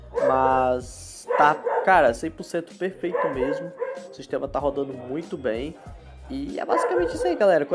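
A dog barks and yips repeatedly in the background of a room while someone talks over it, with whimpering bursts scattered between his words.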